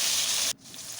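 Chopped tomato and black cumin hit hot oil in a pan for a rohu fish and elephant foot yam curry. A loud, steady hiss drops sharply halfway through, then settles into a softer continuing sizzle.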